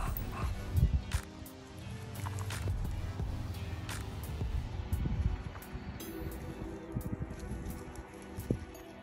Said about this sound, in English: if you've heard all of that heavy breathing in the back, those are my dogs